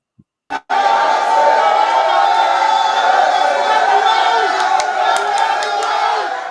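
A large crowd in a street dance procession toward a chief's palace in Benin roars continuously, a dense, loud wall of shouting and chanting that starts abruptly after a sharp knock and holds steady.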